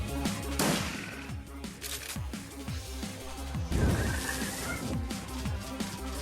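Several sharp gunshots from the turn-based video game Shadowrun: Returns crack over a steady bed of game music, the loudest burst near the middle.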